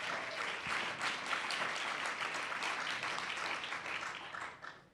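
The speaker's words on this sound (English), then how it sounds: "Give them a big round of applause." Audience applause for a conference panel on STEM and future-ready digital talent: a dense, steady wash of many hands clapping at moderate distance, sustained for several seconds before tapering off at the end, with no talking over it.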